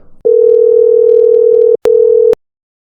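A loud, steady electronic telephone tone holds for about a second and a half, breaks briefly, then sounds once more before cutting to silence.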